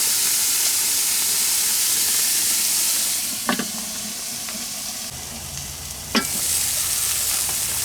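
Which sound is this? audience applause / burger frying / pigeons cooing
burger frying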